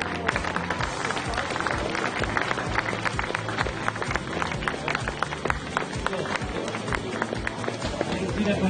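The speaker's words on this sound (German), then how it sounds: "Ein Applaus für die." A crowd cheers and claps for a cyclist at the Eschborn-Frankfurt junior road race. The sharp, scattered claps continue steadily beneath someone talking loudly over the crowd.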